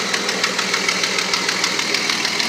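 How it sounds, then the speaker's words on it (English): A 1997 Dodge Dakota engine idles with an exhaust leak from a blown gasket, giving a close, loud, rapid ticking puff over a steady engine drone with no voices. "exhaust leak over here somewhere, blown gasket"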